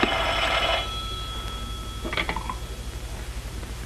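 An early-1930s telephone bell rings loudly in a short burst, falls silent, then rings again more briefly, with no voices over it.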